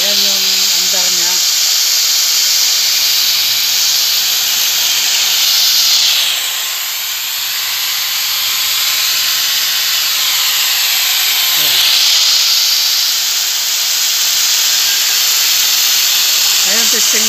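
A small backup power station runs after being switched on, giving off a steady high-pitched electronic whine with a hissy fan-like tone that dips briefly, while someone talks at the start and end.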